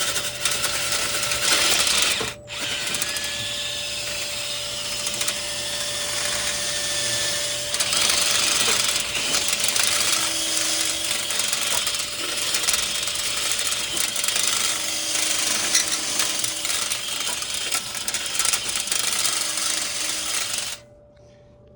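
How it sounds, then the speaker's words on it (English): A steady mechanical whir and scraping rattle runs continuously for about twenty seconds, a drill spinning a dryer vent snake, with a brief pause near the start. "Got the drill hooked up. Never run a vent snake in reverse"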